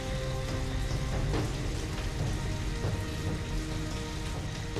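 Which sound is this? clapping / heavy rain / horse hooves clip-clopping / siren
heavy rain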